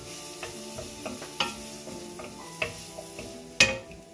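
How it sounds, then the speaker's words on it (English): Two cloves of fresh garlic sautéing in a pan for a creamy asparagus pasta: a low sizzle underneath repeated close scrapes and taps of a utensil stirring, one sharp clack near the end, no voices. "So we're just gonna saute this to become translucent"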